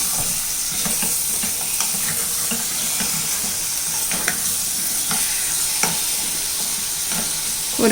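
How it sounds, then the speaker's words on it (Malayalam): Onion with chilli powder and salt sizzles steadily in a pan for chutney while a utensil scrapes and stirs in repeated strokes; no voices, close and continuous. "ഉപ്പും മുളക് പൊടി എല്ലാം കൂടെ ഒന്ന് ഇളക്കി മിക്സ് ചെയ്ത് കൊടുക്കാം"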